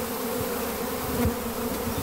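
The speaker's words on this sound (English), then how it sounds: "I had a bee right on the microphone there." Honey bees buzzing around a backyard hive, a dense, continuous hum with one bee passing close by, steady and fairly loud throughout.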